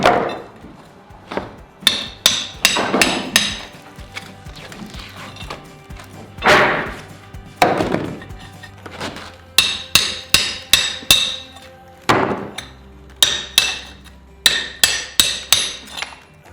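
Hammer knocking old plaster off a farmhouse wall during renovation: sharp, loud repeated blows in irregular bursts, some rapid runs of strikes, with crumbling thuds and debris between them.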